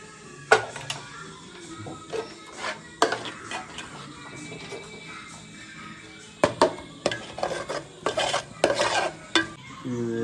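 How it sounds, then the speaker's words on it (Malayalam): A spoon scrapes and stirs chicken gravy and masala through a pan in repeated bursts over a steady low sizzle, with occasional metallic clinks. "നമ്മൾ കുറച്ച് ചിക്കൻ്റെ ആ ഗ്രേവി കുറച്ചൊന്ന് ഇതിലേക്ക് മിക്സ് ചെയ്ത് കൊടുക്കണം"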